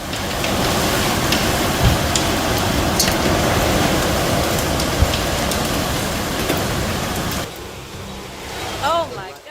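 Heavy storm rain in North Texas pours down as a steady broadband wash for most of the clip, then drops away near the end, where a brief voice is heard.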